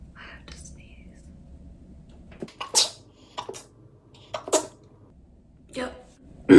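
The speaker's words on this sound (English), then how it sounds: "I have to sneeze." A single person sneezes during quiet, close-up whispering, giving a few sharp, breathy bursts that stand out against a near-silent background.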